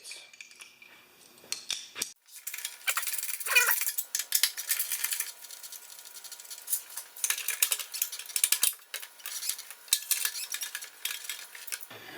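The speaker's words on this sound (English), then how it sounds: "Now we're going to take off the shroud, and that's 3/8." A 3/8 wrench loosens the bolts on a lawn mower shroud, making close, crisp metallic clicks, ticks and clinks in irregular bursts over a quiet background, with no talking.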